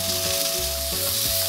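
Sausages frying in a pan for a simple breakfast, a loud, continuous sizzle close up, with a steady hum from the kitchen underneath.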